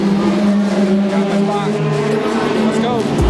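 IMSA race cars passing near the start of a race at Laguna Seca, a loud sustained engine roar with rising and falling pitch tones as cars sweep by, crowd murmur beneath.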